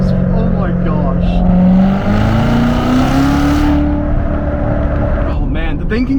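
A 2017 Corvette Z06 with a manual gearbox and 650 horsepower roars loudly from inside the cabin, its engine pitch climbing and blipping through downshifts, with a voice talking over it.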